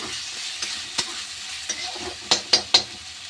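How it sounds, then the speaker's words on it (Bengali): Tomatoes fry in a pan for an egg curry, a faint low sizzle broken by spoon stirs and three sharper scrapes or taps close together near the end. "টমাটো দিয়ে দিলাম, টমাটো ভালো করে ভেজে নেব।"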